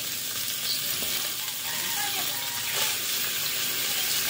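Tilapia sizzles in hot oil in a pan, a steady, dense crackling hiss close by that continues evenly throughout without talk.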